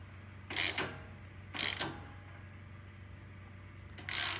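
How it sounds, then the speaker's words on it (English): A hand tool tightens the spark plug of an Ariens Professional 28 snowblower in three short, quiet ratcheting strokes separated by pauses. "then we can finish tightening the rest of the way with the tool"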